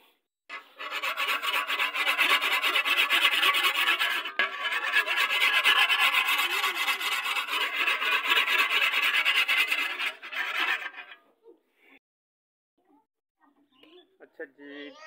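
Hand filing with a rasp, a loud, continuous rough scraping in steady back-and-forth strokes that runs for about ten seconds before stopping, followed by faint scattered sounds.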